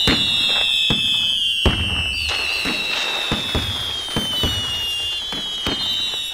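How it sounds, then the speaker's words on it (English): Fireworks at a Vaisakhi parade crackle and pop in a rapid, irregular series of sharp bangs, with high whistling streaks gliding over them, loud and close. "some people have fireworks"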